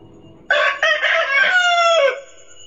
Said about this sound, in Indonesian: Ih, luar biasa ayamnya.